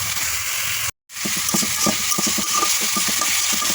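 Dried red chillies fry in hot oil for a village-style telakucha leaf dish, giving a steady close, dense sizzle that cuts out briefly, then resumes with crackling pops.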